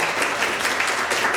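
Audience applause filling a lecture hall, a dense, steady wash of many hands clapping at once with no pauses, fairly loud and sustained throughout.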